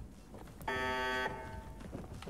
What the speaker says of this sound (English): turn off that alarm